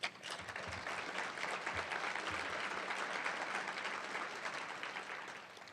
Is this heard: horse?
no